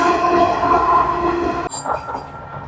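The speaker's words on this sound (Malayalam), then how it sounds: "ഇത് സിഡ്നിയിൽ നിന്ന് വരുന്ന ട്രെയിനാണ്" A train from Sydney rumbles past close by near the Sea Cliff Bridge on the Australian coast, with a steady metallic whine that gives way to rattling wheel noise.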